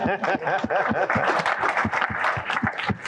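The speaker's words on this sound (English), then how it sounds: "Let's give him another round of applause" An audience applauds a speaker in a steady, dense round of clapping with a few laughs mixed in, while a voice keeps talking over it.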